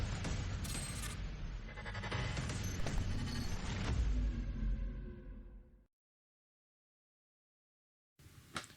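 Young goats bleat over dense, loud, sustained noise for about six seconds, then sudden silence followed by a brief burst of sound near the end.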